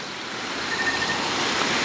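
Continuous broadband roar of the Kawasan Falls waterfall at night, a steady rushing wash of water that swells slightly louder toward the end, with no voices.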